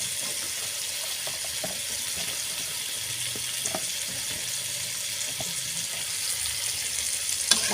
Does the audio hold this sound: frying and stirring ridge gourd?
yes